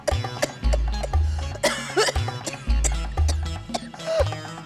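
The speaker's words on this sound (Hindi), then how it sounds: "आप ऐसे खांस क्यों रहे हो?" A man coughs and chokes on food at a family meal in a Sarabhai Vs Sarabhai comedy scene: repeated loud, harsh hacking bursts close by, over low background music and sound effects.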